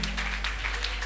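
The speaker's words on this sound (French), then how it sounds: "Acclamons très fort le Seigneur." A church congregation claps together during a service, a brief steady burst of many hands clapping at once, with a low background hum.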